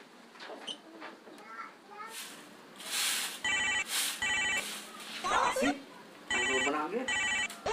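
A telephone rings in several short electronic bursts with gaps between, while people talk and children's voices carry in the background.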